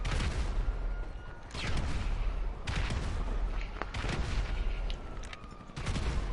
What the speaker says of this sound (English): He's grenade launching.